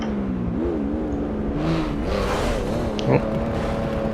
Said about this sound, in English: Just let all these cars go by here for a minute.